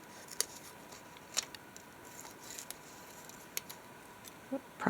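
Scissors snip around the edge of a collage cutout on craft paper, producing a handful of sharp, quiet, irregularly spaced cuts over a faint room hiss, with no talking.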